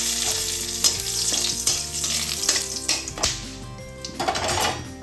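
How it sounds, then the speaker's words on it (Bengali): Bay leaves and whole garam masala spices sizzle in hot oil and ghee, a bright continuous fry crackle broken by spoon scrapes and clinks against the pan. "এবারে একটু গরম তেল আর ঘিতে দিয়ে দিচ্ছি, তারপর তেজপাতা দিয়ে দিচ্ছি, গোটা গরম মশলা"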